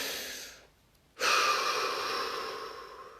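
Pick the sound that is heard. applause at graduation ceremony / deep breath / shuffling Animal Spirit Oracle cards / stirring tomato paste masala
deep breath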